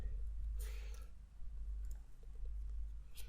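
Typing on a computer keyboard, with a few scattered key clicks standing out faintly over a steady low hum.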